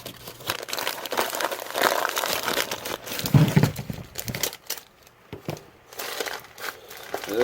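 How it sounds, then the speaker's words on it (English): Paper packaging around a shipment of bullets is untaped and crumpled up close, a steady run of crinkling and tearing with louder bursts mid-way, then quieter rustles. "I'm going to untape this."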